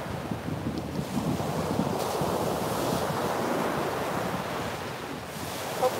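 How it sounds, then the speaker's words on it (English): Ocean surf rolling onto a windy shore in the morning, a continuous broad wash of breaking waves with gusting wind buffeting the microphone, steady and fairly loud with no talk. "Hopefully the waves sound good this morning."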